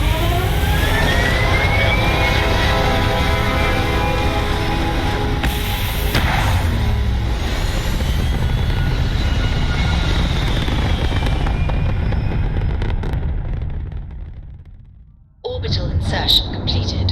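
Spaceship engines roar loudly in the game Starfield, a sustained dense rumble with a rising whine and thuds, fading out near the end before a brief burst returns; a voice speaks over it.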